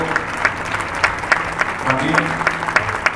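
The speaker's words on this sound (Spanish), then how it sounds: "para recibir un aplauso, para agradecer diversos adultos de la Escuela de Flamenco Maribel Hidalgo," Theatre audience applauding adult dancers of a flamenco school at a dance gala, with a crowd clapping at a steady moderate level and a voice talking over it.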